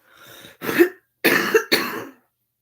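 Three harsh, close coughs, a softer breathy one first, then two sharp bursts in quick succession, with no talking.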